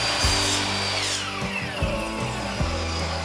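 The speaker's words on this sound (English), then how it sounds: "The first thing I like to do is just make a starter miter cut" A power saw makes a starter miter cut through wood for a DIY table, its tonal whine running steadily at close range with brief dips and bursts as the blade bites, no talking.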